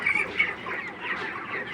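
Several chickens cluck steadily at close range in a dense, continuous flock chatter, with no talk.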